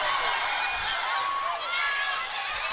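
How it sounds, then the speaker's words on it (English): Crowd noise fills a 2019-20 men's college basketball game between Tampa and Nova Southeastern, a steady, fairly loud roar of cheering voices with a few high whistle-like squeals rising over it throughout. "As you hear the crowd jack up the noise here a little bit."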